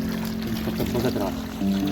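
A buffalo drinks water on a Maharashtra farm, a continuous close pouring and slurping wash throughout, with someone talking over it.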